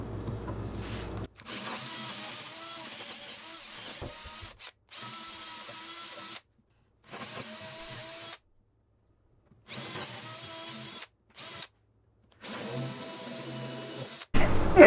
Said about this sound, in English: So I'm going to drill a 5/16 inch hole so that we don't have much play or shaking